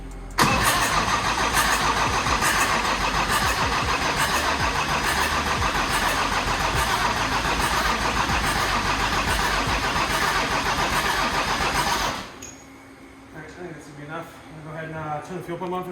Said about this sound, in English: So what we want to do is crank it to get oil pressure